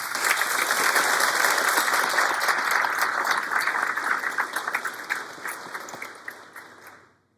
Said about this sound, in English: let's show them your appreciation by giving them a round of applause